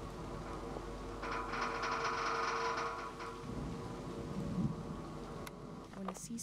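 Rain and distant thunder from a storm in the video game SEASON: A Letter to the Future, mixed with a mechanical whirring buzz midway and a few short clicks near the end, low in level.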